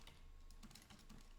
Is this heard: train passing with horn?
no